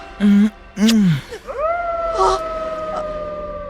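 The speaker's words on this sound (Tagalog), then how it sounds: "nagbubunyi ang mga aso sa gubat" Dogs howl in a forest, a few loud, close wails that rise and bend in pitch, followed by a longer, sustained howl that trails off.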